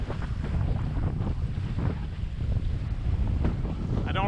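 Strong wind roars steadily over a sailboat heeling through choppy, whitecapped seas on a passage between Caribbean islands, with continuous loud buffeting gusts on the microphone and the low wash of waves beneath.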